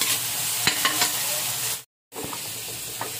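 Ginger and taro pieces sautéing in a pan for salmon sinigang, a steady close sizzle with several sharp stirring scrapes and clacks, cut by a brief silent gap before the frying resumes.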